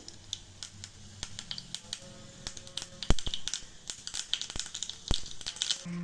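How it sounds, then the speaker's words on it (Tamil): Mustard seeds and cumin crackle and pop in hot oil while tempering for beetroot sambar, giving rapid irregular sharp pops over a soft sizzle, close by and alone. "எண்ணெய் போட்டேன், கடுகு, கொஞ்சம் சீரகம்,"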